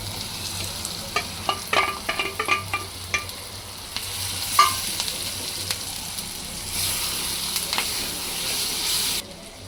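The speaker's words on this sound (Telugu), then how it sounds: "బాగా వేగిన తర్వాత వేయించుకున్న రొయ్యలు ఇందులో వేసేసి" Fried prawns stirred in a pan with ginger and curry leaves, sharp scraping clicks of the spoon over a soft constant sizzle, close and moderately quiet.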